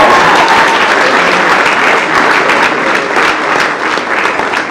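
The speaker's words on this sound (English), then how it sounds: "Clap for cancer patients," Audience applause at a comedy show, a dense, steady wash of many hands clapping loudly and continuously throughout with no break.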